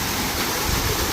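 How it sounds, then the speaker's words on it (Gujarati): Water gushes from a pipe in a village setting, a dense steady rushing splash that is loud and close, with no voices. "આપણે જો બંબુડું રાખ્યું હતું ને એમાં જ પાણી આવે છે"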